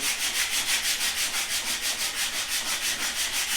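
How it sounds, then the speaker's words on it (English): An orbital sander smoothing a wooden table saw throat plate, a steady high-pitched abrasive whir pulsing in a fast regular rhythm, close and unbroken, with no talking. "I could use my orbital sander or your palm sander, and you can do this pretty quick"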